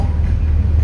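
Matheran toy train on the Neral–Matheran line running with a steady low rumble and continuous rolling drone, loud and close throughout, with no distinct clacks standing out.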